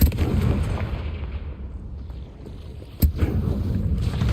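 A Confringo fire spell is cast in Hogwarts Legacy inside a cave, heard as a rumbling whoosh that fades, then a single sharp blast around the three-second mark followed by a rolling roar.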